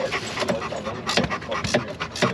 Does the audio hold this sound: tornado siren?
no